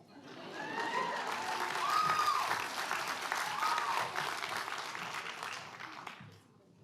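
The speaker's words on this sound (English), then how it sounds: "Let's give them, Ishi and Elaine, another round of applause." Sustained applause from a commencement crowd at a college graduation ceremony, steady and fairly loud throughout, rising slightly in the middle before tapering off at the end, with occasional cheers mixed in.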